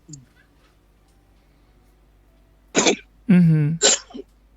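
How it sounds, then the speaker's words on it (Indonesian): A few short, harsh coughing bursts close to the mic after a quiet stretch, the middle one longer and voiced. "Agak ada batuk dikit nih"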